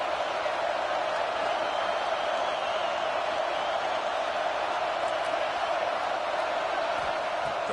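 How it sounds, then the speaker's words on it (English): Crowd noise fills a stadium in a college football video game, a dense steady roar with faint cheers that holds at an even level throughout, with no commentary over it. "and here comes the crowd noise."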